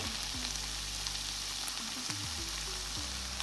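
Lamb stew sizzling and frying in a pot as fresh thyme sprigs go in, a steady close bubbling hiss with occasional stirring scrapes, no voices.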